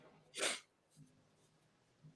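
A single short, sharp sneeze bursts out, followed by quiet breathing sounds in an otherwise hushed space.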